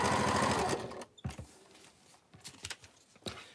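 A sewing machine stitches quilt fabric for a Christmas wall hanging, a fast loud burst of stitching that stops after about a second, followed by faint clicks and handling sounds.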